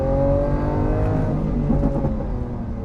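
A Lamborghini Aventador S V12 engine accelerating from close range, a loud sustained roar with steadily rising harmonic tones and no speech over it.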